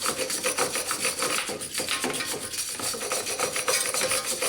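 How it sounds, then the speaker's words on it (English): A steel wire brush scrubs the face of a brake caliper piston on a 2004 Honda Accord front brake, making a close, continuous rasping scratch with quick back-and-forth strokes. "I'll just take a steel brush, clean off the face of the piston here nice and gently"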